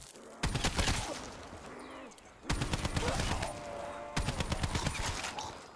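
Gunfire against zombies in the video game Mori Zombies map: three loud bursts of rapid shots, each lasting about a second or more, separated by short gaps filled with background game noise.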